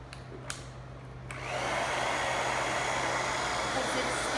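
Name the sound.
drying a wet craft project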